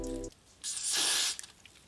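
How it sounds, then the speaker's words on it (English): Got To Be hair spray sprayed from a can onto a wig, a single loud hissing burst lasting about three quarters of a second, heard up close after a brief low hum. "And I'm spraying my Got To Be on here as well."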